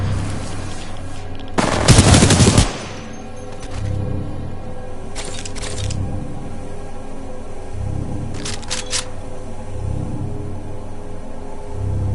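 Loud burst of rapid automatic gunfire in the video game Titanfall 2, lasting about a second, followed by a rumbling battlefield ambience with a few faint, distant bursts.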